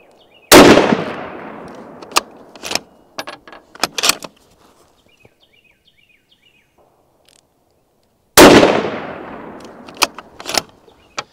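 An MK22 sniper rifle fires two loud, sharp rounds several seconds apart, each a sudden blast with a decaying tail, followed by faint metallic clicks and handling noises.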